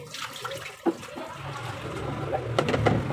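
Fresh ginger root is rinsed under a running tap in a home kitchen while paksiw is being prepared, a steady close rush of water with light splashing that builds slightly toward the end.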